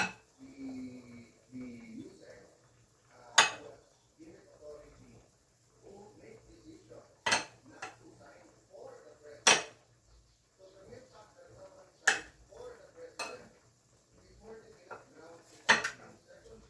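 Pots and utensils clank and clink sharply at irregular moments in a home kitchen while chop suey cooks, a handful of loud metallic hits over quieter handling, with a voice speaking between them.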